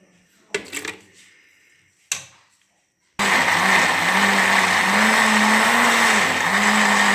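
An electric grinder pulverises dried dates for panjiri, starting after a couple of short knocks and clatters, then running as a loud, constant whirring motor hum for several seconds with a slight cyclic wobble.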